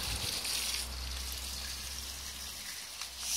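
Water poured from a container onto the rim of a desert rose plant pot, a steady soft gushing and splashing that runs for several seconds with no voices.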